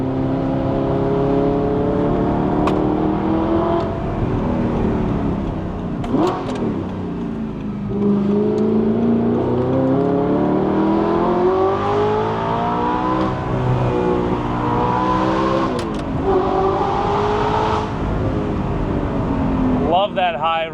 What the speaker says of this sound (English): Love that high revving V8.